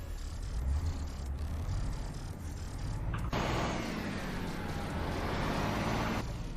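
A truck engine in the video game Euro Truck rumbles steadily, then a higher, brighter engine roar kicks in midway and holds for a few seconds before dropping off.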